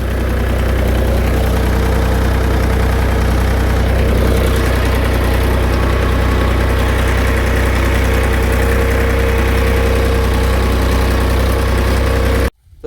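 A tractor engine runs steadily while levelling furrows in a farm field, a loud low continuous rumble with a knocking diesel throb, cutting off abruptly at the end.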